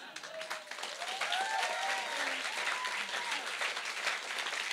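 An audience at a poetry slam applauds steadily in a dense, moderately distant wash of clapping, with faint voices and brief vocal cheers mixed in.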